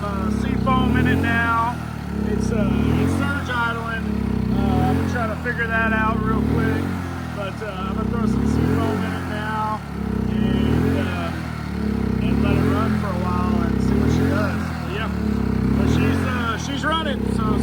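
Predator generator engine cranked on starting fluid, running with a loud, steady, close rumbling and rhythmic clatter that surges and dips in even cycles.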